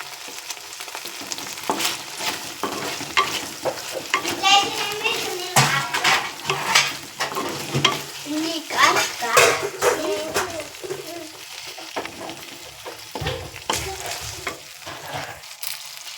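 Okra frying in a pan, a constant sizzle running beneath a person talking, with occasional utensil scrapes and clinks against the pan.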